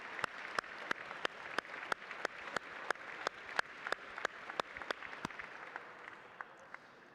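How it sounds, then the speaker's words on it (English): Audience applause at an American Liver Foundation gala, sharp, regular claps in a steady rhythm, fading slightly toward the end, no voices over it. "please give a big round of applause to all of our honorees"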